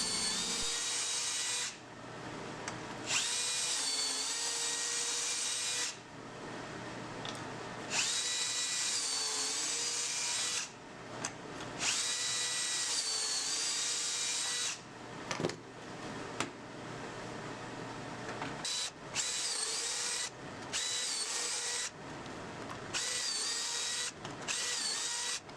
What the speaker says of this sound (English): You just clamp it to your board and run your drill through it.